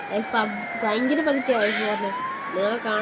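An ambulance siren in the Bus Simulator India video game wails with rising and falling tones over the game's engine hum while someone talks throughout.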